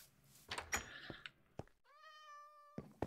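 A cat in the video game Minecraft gives a single clear, drawn-out meow, set among a few sharp in-game thumps and clicks, with no talking.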